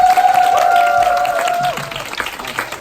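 An audience at a leadership seminar claps for a speaker being welcomed onstage, a dense spatter of applause that is loud at first and then thins out, with a sustained tone ringing over the start.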